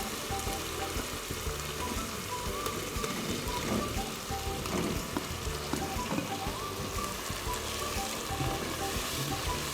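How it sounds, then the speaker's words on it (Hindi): Chicken koftas deep fry in a pan of oil, giving a dense, continuous crackling sizzle with small pops, steady and close for the whole stretch. "कोफ्तों को तकरीबन 10 से 15 मिनट तक फ्राई करते रहें ताकि डीपली फ्राई हो जाए"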